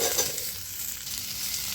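Potato pieces sizzle in hot oil alongside fried ginger in a pan, a soft, steady frying hiss heard alone at low volume.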